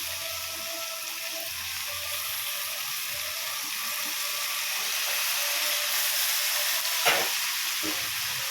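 Grated raw mango sizzles and crackles steadily in hot tempering oil, with a few clinks of stirring near the end; no talking.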